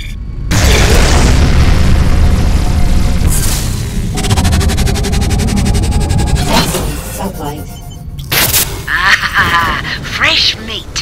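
Incoming missiles explode in the Rebel Galaxy space combat game, with loud booming blasts and crackling bursts in quick succession, overlapping electronic ship sounds and a synthetic voice speaking.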